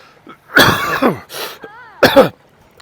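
A close, loud cough, a couple of harsh bursts followed by another hacking cough, with a brief squeaky throat sound between them.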